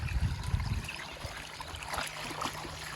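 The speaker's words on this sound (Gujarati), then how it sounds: "અખાત્રીના દિવસે જ ખેતરમાં પાણી ચાલુ છે" Irrigation water runs through a farm field in a village, producing a soft, steady flow and trickle that continues throughout, with no voices.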